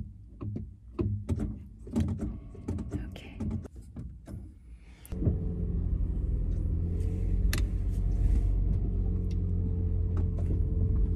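A car engine starts and settles into a steady low rumble after a stretch of close talking and handling noises, continuing loud and even to the end.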